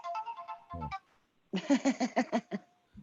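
A mobile phone ringtone plays clearly as a loud, melodic electronic tune in rhythmic note bursts, broken by a brief pause partway through.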